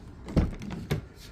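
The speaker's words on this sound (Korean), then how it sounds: "약간의 틈이 있으면 자동으로 당겨서 닫아주는 기능입니다" A Genesis GV80 facelift door fitted with a soft-close mechanism gives a soft thunk, then a muted motorized pull and a second quieter latch as it draws itself fully shut.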